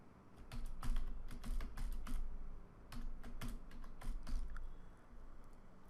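Someone types a project name into Android Studio on a computer keyboard, producing quick irregular bursts of close key clicks with short pauses between them and no talking.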